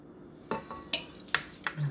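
Chocolate cake batter being mixed with oil in a bowl, a spoon or whisk clinking and scraping against the side in a few quick irregular strokes, soft and close with no speech.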